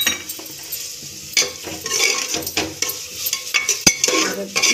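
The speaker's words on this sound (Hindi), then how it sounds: "अब हम इसमें डाल देंगे जो टमाटर हमने लिया था दो, इसको हमने बारीक काट लिया है। ये देखिए अब इसको डाल देंगे टमाटर।" Chopped tomatoes go into a pan of frying masala for a festive Navratri vegetable dish, with steady close sizzling and repeated scraping stirs of a spoon against the pan, plus a sharp metallic clink near the end.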